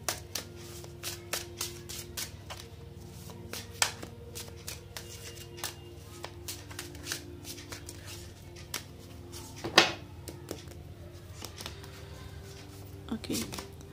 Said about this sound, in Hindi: I will pull 3 cards for advice for Leos.